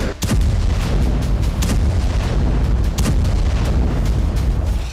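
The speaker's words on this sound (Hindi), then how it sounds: "उसके बाद गाजा के बेत लाहिया इलाके से धमाकों की आवाज आती।" Heavy booming blasts and rumbling explosions follow an airstrike in Beit Lahia, Gaza, loud and dense, with repeated sharp impacts over a continuous roar and no voices.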